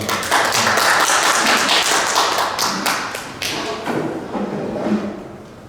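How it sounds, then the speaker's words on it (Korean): Applause welcomes a family representative at a memorial hall designation ceremony, a moderate crowd clapping unevenly with distinct hand slaps and thumps that taper off over several seconds. "박수로 환영해 주시죠"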